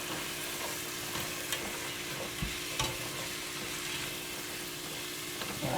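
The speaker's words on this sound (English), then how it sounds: "now I'm going to add my carrots and onions." Carrots and onions sizzle steadily in a pan for a Moroccan lamb stew, a close, even crackle broken by a few sharp spoon scrapes and knocks as the vegetables are stirred.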